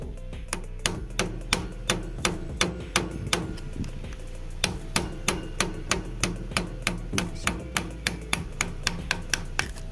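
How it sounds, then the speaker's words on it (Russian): A hammer tapping a screwdriver set against the left-hand-thread clutch nut of a Mustang Dingo 125 moped, a long run of sharp metallic knocks at a quick, fairly even pace, close and loud. "Можно наставить э, отверточку и постукать"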